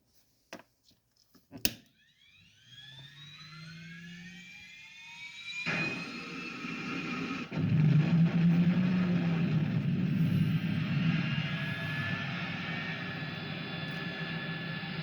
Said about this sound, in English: we have it set for the 1966 Batmobile turbine. So we should hear the startup sequence.